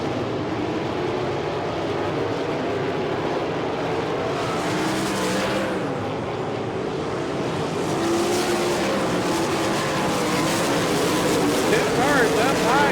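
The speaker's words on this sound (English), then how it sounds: "Cars up high, coming through turn number 4 as they cut down into the traffic." Sprint cars roar through turn four at a dirt oval during a USAC racing night, a dense continuous engine drone with passing swells, heard at a distance under an announcer's commentary.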